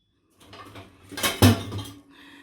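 Metal pots and pans clank and clatter as they are shifted around, with a loud bang near the middle and scattered rattles after.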